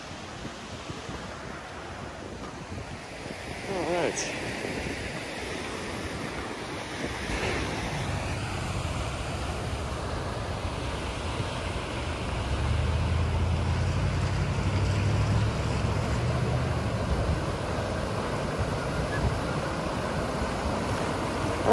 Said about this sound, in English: we're gonna go closer to the waterfall